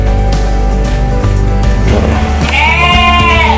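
Sheep and lambs bleat in a breeding pen, a loud close cluster of quavering calls that overlap one another, with a higher, wavering lamb-like bleat near the end.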